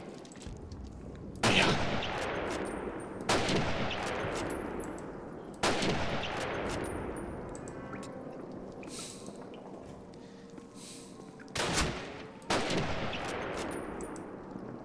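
In the World War II shooter Call of Duty, sniper rifle shots crack out one at a time, six loud reports with ringing decay spaced a few seconds apart, while someone briefly speaks.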